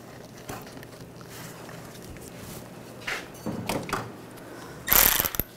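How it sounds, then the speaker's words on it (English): A worm clamp is tightened by hand on the air intake of a 2004-2009 Toyota Prius, faint scattered ratcheting clicks and scrapes building to a short louder rattle near the end. "Tighten down the worm clamp."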